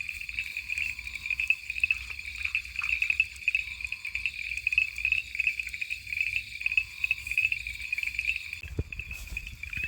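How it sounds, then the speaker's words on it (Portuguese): Dense chorus of many frogs and toads croaking and calling continuously at night on a flooded island camp, a steady bright trilling band with insects, fairly close and loud, with a brief louder knock near the end. "vocês podem escutar no áudio, meu senhor, né? Quantia de sapo que tem rã aí, né? Gritando"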